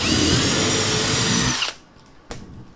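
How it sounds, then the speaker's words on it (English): A power drill whines loudly and steadily for about a second and a half while drilling a bolt hole through wood for a cornhole board, then stops abruptly, followed by a brief clunk. "So we're going to drill."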